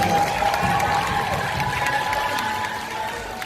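Applause from a crowd at a music showcase performance, a dense continuous wash of clapping with some cheering, steady and fairly loud throughout.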